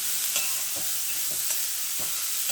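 Beans stirred through hot oil in a pan with salt, a steady sizzle under repeated scrapes of a spoon at a loose, uneven rhythm, close and fairly loud, with no voices.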